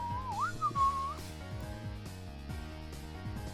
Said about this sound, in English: Mion whistled nonchalantly, trying to avoid the blame.